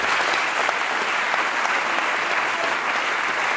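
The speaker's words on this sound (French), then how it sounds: "Applaudissez-les." A crowd applauding at an opposition political convention, a dense, even wash of clapping that holds steady throughout without a break, with no talking.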